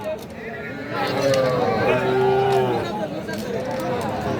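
Cattle moo with a long, steady call at Aftabganj livestock market, where small heifer calves are bought and sold, over a constant crowd hubbub and background voices.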